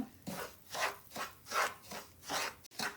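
Dry semolina (rava) being stirred and roasted in a pan over medium flame for laddu, with rhythmic scraping and rasping strokes about twice a second, close and clear with no talking.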